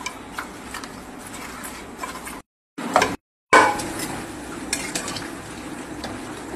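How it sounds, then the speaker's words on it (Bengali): Fish curry ingredients with red chili powder, turmeric and sugar being mashed and stirred in a pan, giving close scraping and clinking utensil strokes over a soft sizzle, briefly broken by two silent gaps. "একটু চটকে নেব।"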